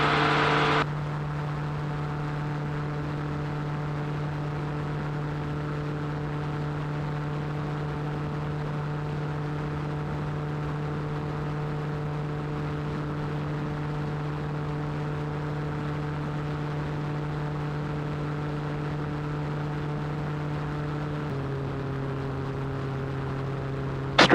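Gyrocopter in flight: a steady droning engine at cruise RPM with a constant tonal hum and rotor wash, shifting pitch slightly near the end, loud and continuous without talk.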